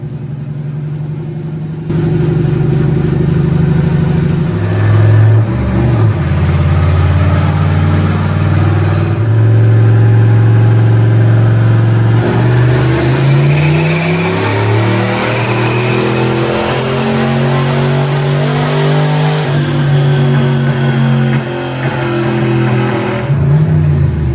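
A turbocharged 302 V8 in a budget GT40 build pulls hard on a dyno, its loud, continuous engine note climbing steadily in pitch through the run before dropping back off at the end.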